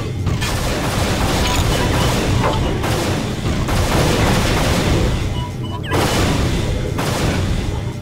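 Weapon fire hitting a wall in the Unreal video game, with dense, loud repeated blasts and booming impacts filling the whole stretch, broken by brief drops.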